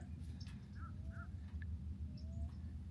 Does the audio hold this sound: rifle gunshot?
no